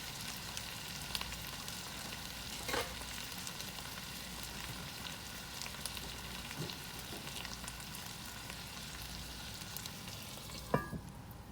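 Potatoes fry in a pan with butter, making a soft, steady sizzle with a few faint clinks and stirring sounds, one sharper clatter near the end.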